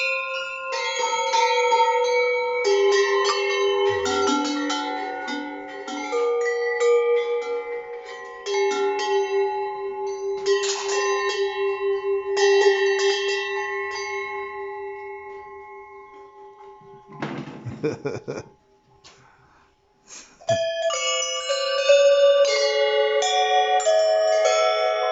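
A string of goat bells is rattled close by, giving dense overlapping metallic chiming in long jangling runs with a brief quieter break, loud and with no talking.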